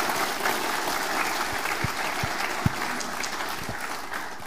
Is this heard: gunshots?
no